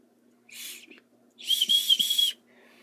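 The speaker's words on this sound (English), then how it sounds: "It's a whistle that actually works." A miniature antique-style toy tea kettle from a dollhouse kitchen gives two high, thin whistles, a short one and then a longer, wavering blast, close by in a quiet room.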